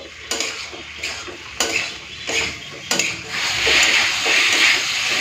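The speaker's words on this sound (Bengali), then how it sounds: "একটুখানি কষে নিই তারপরে জল দেবো" Fried potato, cauliflower and peas are stir-fried in a kadai with masala, a spatula scraping the pan in repeated strokes over a rising sizzle, near and fairly loud, with no speech.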